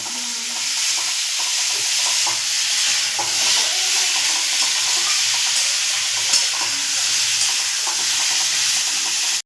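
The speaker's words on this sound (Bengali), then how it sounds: "আলুগুলোকে বেশ লাল লাল করে ভেজে নেব আমি।" Cubed potatoes and pointed gourd frying in hot oil until browned, a loud steady hissing sizzle with occasional stirring scrapes.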